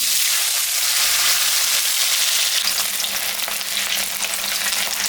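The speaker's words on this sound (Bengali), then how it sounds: "তেলটা গরম হয়ে গেছে, এখন আমি পনিরটা ভাজি।" Paneer fries in hot mustard oil in a kadai, making a loud, continuous hiss and crackle that fills the whole stretch with no talking.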